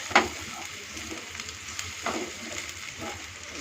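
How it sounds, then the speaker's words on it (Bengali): Chopped ginger and garlic fry in a pan for minced chicken curry. A quiet, even sizzle runs throughout, with occasional scraping stirs rising briefly above it. "আদা রসুন দিয়ে ভালো করে ভেজে নিচ্ছি"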